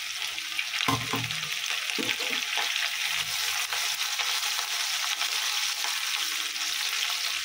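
Chopped ginger and green chili dropped into hot oil for a paneer masala, sizzling steadily up close while being stirred, with a few low knocks and scrapes of the utensil early on.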